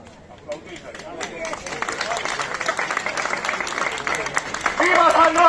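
Crowd applause at the San Roque street procession in A Rúa Vella, starting light with a few scattered claps, then swelling into steady, dense clapping that grows louder toward the end, with voices mixed in.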